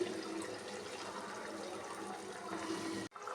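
Hot water pours steadily into a pan of cooked spices for matar paneer, a close, continuous splashing rush that holds for about three seconds and then stops abruptly.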